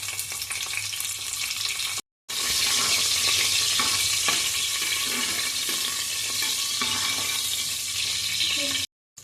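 Green chilies and pulao masala fry in a hot pan with a loud, steady sizzle that carries almost unbroken for several seconds. There is a brief cut near the start and another near the end.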